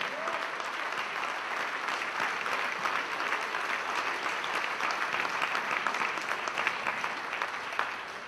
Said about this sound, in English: Put your hands together like you just got an Academy Award.